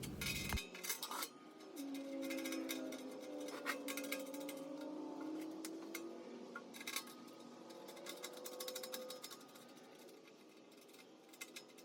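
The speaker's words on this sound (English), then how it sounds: "now I'm getting the stainless steel bolts out and getting those secured and bolted on" Stainless steel bolts are handled and fastened onto a metal pan for a ribbon burner forge, giving faint, sparse metallic clinks and taps over a quiet, low humming background.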